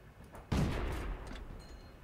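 A single tank cannon shot in an online tank combat video game, one sharp loud boom followed by a rumbling decay, with no talking over it.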